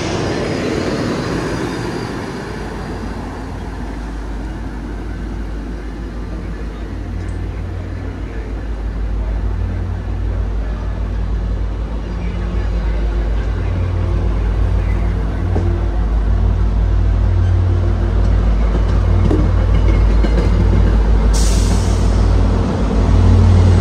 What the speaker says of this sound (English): making an easy chase for one particular train, CSX Local L080, a local freight ending in Lawrence